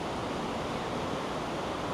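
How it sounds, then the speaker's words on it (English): Ocean waves churning in the wake behind the Star of the Seas cruise ship at night, a loud, continuous rush of surf and wind with no distinct breaks. "Watch the waves go by."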